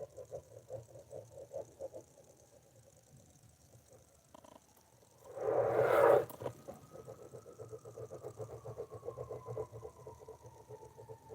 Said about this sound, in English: That's like the fifth EMS truck I done heard